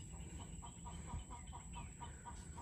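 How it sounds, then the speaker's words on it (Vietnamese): Farm chickens clucking at a home garden property in Tien Giang, Vietnam: a faint, rapid series of short clucks at an even rhythm over a steady outdoor hiss, heard from a moderate distance with no talking. "đây là gia chủ đang chăn nuôi gà thêm nè"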